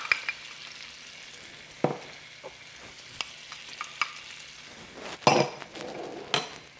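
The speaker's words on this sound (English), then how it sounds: "And now we're just going to kind of saute it, stir fry it, get all of those flavors blended together." Asparagus with salt, pepper, balsamic vinegar and herbs sautéing in a pan, a low steady sizzle broken by several sharp scrapes and clinks of a utensil against the pan, loudest near the end, with no talking.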